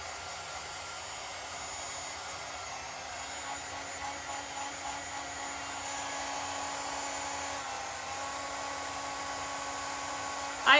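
A hair dryer blows steadily to dry chalk ink on a tea towel, a continuous close whirring hum holding an even pitch throughout, ending with a brief clunk.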